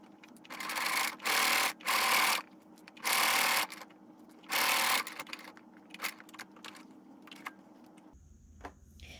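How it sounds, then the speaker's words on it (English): A sewing machine stitches around the edge of a hanging kitchen towel in four short whirring bursts, close and steady, followed by quieter clicks and handling noises. "we're just gonna first sew around the edge"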